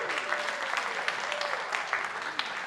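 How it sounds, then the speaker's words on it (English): An audience at an annual meeting gives a round of applause for a couple's 55th wedding anniversary, steady crowd clapping throughout, fairly close, with faint voices mixed in. "Let's give them a round of applause."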